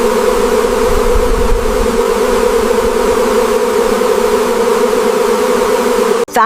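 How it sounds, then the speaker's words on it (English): Thousands of honey bees hum steadily on an isolated farm, a dense, continuous buzzing drone that stays loud and unbroken throughout, with a brief clunk at the very end. "Thousands of bees at work."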